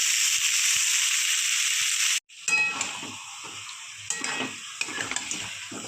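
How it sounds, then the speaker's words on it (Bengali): Marinated chicken pieces with potatoes dropped into hot oil in a pan for a curry, a steady loud hiss breaking off, then crackling sizzle with repeated spoon scrapes and stirring, close up. "এবার ম্যারিনেটেড চিকেনটা আমি দিয়ে দেবো।"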